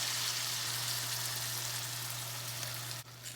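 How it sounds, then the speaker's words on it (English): Ground beef, onion and carrots simmer in a pan with added beef broth, giving a steady close bubbling sizzle with a low hum beneath, cut off abruptly near the end. "I'm actually gonna add about a half cup of beef broth into here and just let it simmer for a little bit"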